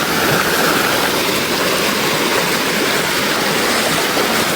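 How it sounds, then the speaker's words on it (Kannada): Water from a forest waterfall stream rushes in a loud, continuous, close hiss with no break and no voices. "ಫಾಲ್ಸಿನ ಜರಿ ಬಂತೀಗ ಅಲ್ಲ ಅದೊಂದು ದಾಡ್ಕೊಂಡು ಹೋಗ್ಬೇಕೀಗ ನೋಡಿ"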